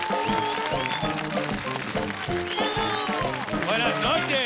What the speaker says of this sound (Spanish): me gustaría que le dieran un fortísimo aplauso